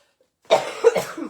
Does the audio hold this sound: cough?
yes